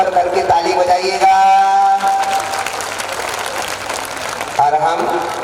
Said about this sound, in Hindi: इनके सम्मान में जोरदार सब लोग अपने अपने हाथ ऊपर करके ताली बजाइएगा